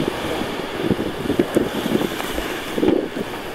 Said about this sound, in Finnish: No vähän kyllä tuulee, mä en tiedä paljon tää mikki saa otettu kiinni